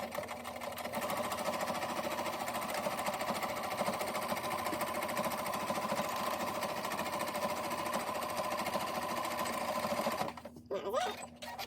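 A sewing machine stitches the edges of a fabric face mask in one long, steady, rapid run close by, then stops near the end, leaving a few brief handling noises.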